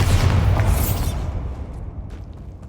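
A Bombarda spell in a video game goes off with a loud, booming explosion that fills the first second, then fades into a rumbling decay and quieter debris sounds.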